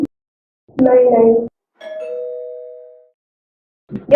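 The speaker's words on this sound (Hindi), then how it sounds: "शायद घंटी बजी।" A two-tone electronic doorbell chimes once, ding then a long dong, between bursts of someone talking.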